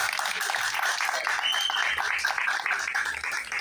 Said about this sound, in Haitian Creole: Applaudissez Samuel, plus fort s'il vous plaît.